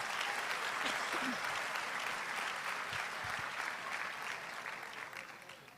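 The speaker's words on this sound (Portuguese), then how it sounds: "Vão aplaudir agora?" A church congregation applauds during a worship service, steady dense clapping that fills the room and slowly tapers off toward the end, with faint voices mixed in.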